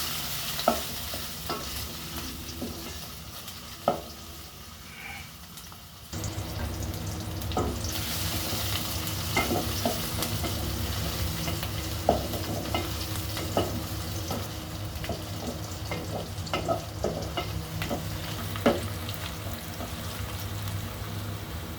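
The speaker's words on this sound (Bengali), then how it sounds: "পেঁয়াজ কুচি মরিচ কুচি দেওয়া হয়ে গেলে ভালোভাবে নেড়ে চেড়ে নেব" Chopped onion and green chili frying in oil while being stirred for a dried fish curry, a steady sizzle that grows louder and fuller partway through, with repeated sharp scrapes and taps of the spoon against the pan.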